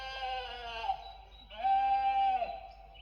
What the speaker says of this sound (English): What do the sheep say?